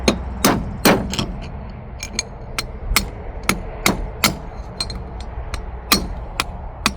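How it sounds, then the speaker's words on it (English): A hammer strikes a punch to drive out a trailer wheel bearing in a backyard, about fifteen sharp, ringing metallic blows in an uneven rhythm, close and clear over a quiet background. "This punch. This is a handy dandy tool. Where's my little one? I guess this bigger hammer will do."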